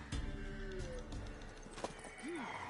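A mare in the video game The Witcher 3: Wild Hunt gives a short whinny near the end, preceded by hoof clip-clops and rustling in a quiet scene.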